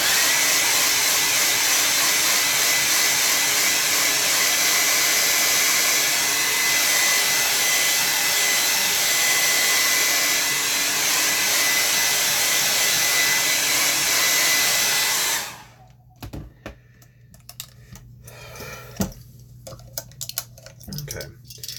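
A hair dryer blows steadily on a watercolor landscape painting for about fifteen seconds, a loud, even rushing whir, then cuts off abruptly, leaving faint clicks and small handling noises.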